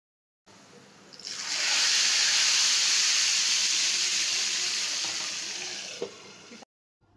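A long, loud steady sizzle as hot oil tempered with curry leaves, chillies and cumin is poured over a bowl of moong masoor dal, rising quickly, hissing for several seconds, then cutting off with a small clink.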